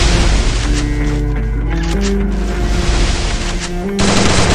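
Rapid gunfire in the Free Fire video game: continuous, dense bursts of shots under a steady music bed, with a sharper, louder volley near the end.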